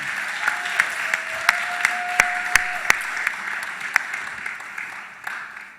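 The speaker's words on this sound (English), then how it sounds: "We can give them applause for that." Scattered applause from a concert audience, a modest spread of claps with a few sharper ones standing out, steady at first and thinning toward the end.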